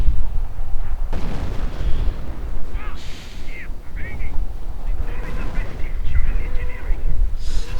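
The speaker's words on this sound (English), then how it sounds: "More artillery going in." Artillery fire in a World War II strategy video game booms in repeated heavy blasts amid battle noise, with shell whistles and someone talking over the barrage throughout.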